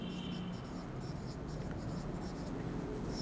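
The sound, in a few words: writing numbers on a board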